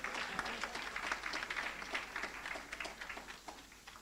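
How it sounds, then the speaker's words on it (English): A conference audience applauds its panelists, a steady wash of many hands clapping at moderate volume throughout, tapering slightly toward the end. "Round of applause for them."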